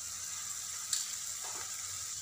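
Spices and tomato fry in a pan for a lentil and eggplant dish, a soft steady sizzle with a brief stirring clink and scrape.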